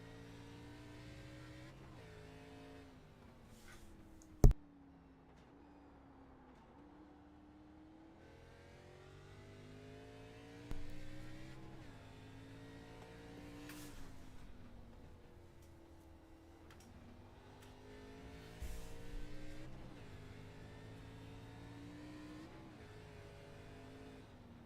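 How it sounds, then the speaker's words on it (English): An ARCA stock car lapping Laguna Seca at speed, heard from the roll bar: a steady engine roar rising and falling through gear changes and revs, with occasional sharp knocks and bumps, no talk. "Act like we're a passenger in this fast 27 car."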